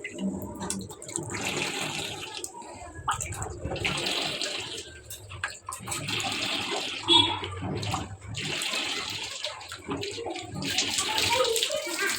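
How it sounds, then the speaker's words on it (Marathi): Water gushes steadily from a hose into a drum, a continuous splashing fill with a faint voice in the background. "इथं ड्रम भरत आहे हळूहळू"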